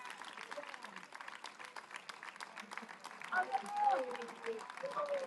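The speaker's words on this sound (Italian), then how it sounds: "Gli applausi dal settore ospiti per la squadra" Applause from the visiting supporters' section at an Eccellenza Sicilia football match between Supergiovane Castelbuono and Unitas Sciacca comes across as a faint, distant patter of clapping, with a commentator talking over it.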